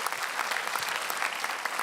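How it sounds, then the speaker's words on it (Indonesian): An audience at a stand-up comedy show breaks into dense, loud clapping that runs steadily from start to finish, with a faint crowd murmur underneath. "Boleh tepuk tangan untuk ibu saya."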